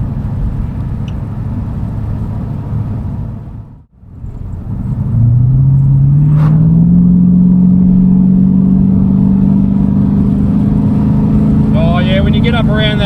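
A Ford EB Fairmont Ghia V8 fitted with a new performance exhaust idles with a deep rumble, dips briefly, then revs up into a strong sustained drone, loud and close, with someone talking.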